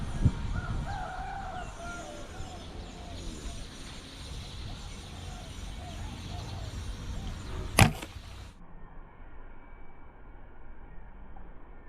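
A rooster crows somewhere in the distance, faint beneath steady outdoor background noise, and a single sharp click cuts through partway along before the ambience drops away.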